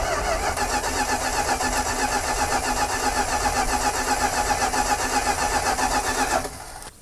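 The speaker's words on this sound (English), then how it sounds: "I'm gonna give it a crank and just see if we can get any fuel pulling up." An abandoned Dodge Power Wagon service truck's engine cranks steadily without catching, a loud continuous rhythmic churning that stops abruptly near the end.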